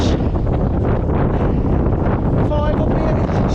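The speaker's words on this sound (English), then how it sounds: "Wind speed must be about, I don't know, 30, 40 miles an hour. Fairly constant." Strong, fairly constant gale at roughly 30–40 mph on the cold summit of Titterstone Clee Hill in the Shropshire Hills, roaring and buffeting the microphone with a loud, dense, continuous rush and a brief faint whistle near the end.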